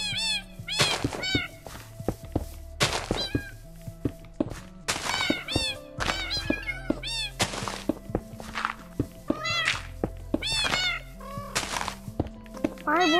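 Repeated cat meows from Minecraft on PlayStation 4, several short calls in irregular bursts mixed with soft blocky footstep thumps and game music, loud and close.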